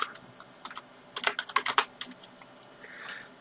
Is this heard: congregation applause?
no